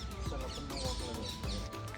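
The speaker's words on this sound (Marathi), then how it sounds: "इथं पाणी ठेवल्यामुळे वेगवेगळे पक्षी आणि त्यांचं किलबिलाट" Chickens cluck and other birds, including peacocks, call continuously around a water spot in Jodhpur, Rajasthan, over a busy outdoor background, the chatter of fowl layered and fairly close.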